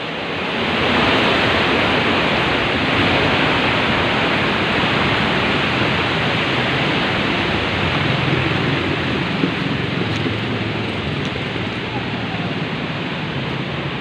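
Powerful water roars continuously inside a cave, a loud, unbroken rushing wash, with a voice briefly audible beneath the roar.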